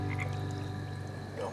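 Frogs croak during a nighttime frog hunt, a low, steady rasping drone that runs for the whole moment while people talk.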